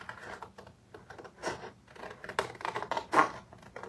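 Scissors or snips cutting around printed paper, a series of crisp scraping snips and rustles, close and moderately loud, with no talking.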